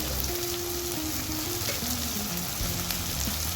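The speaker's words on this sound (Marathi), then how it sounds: "हे मसाले चांगले तेलात परतून घ्यायचे आपल्याला" Spices with red chilli powder, mutton masala and turmeric sizzle steadily in hot oil in a pan for a Gavran-style hill bean curry, a close, constant frying hiss with faint low hum beneath.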